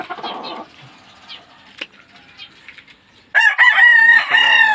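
Gamefowl roosters in a cramped training space crow loudly at close range, with softer clucking and scattered calls first, then one long full crow near the end.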